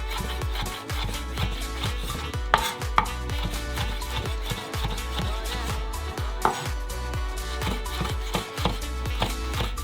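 Knife chopping food on a cutting board while preparing a hearty Southwest-style chili, a steady rapid run of close, crisp chops lasting throughout with a few sharper knocks and no talking.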